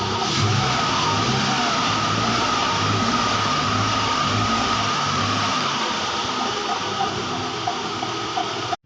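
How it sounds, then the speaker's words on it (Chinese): Car engine running steadily right after repair work, a loud, continuous close rumble with a constant hum and no clear pauses. "现在再一次启动，看能不能打着"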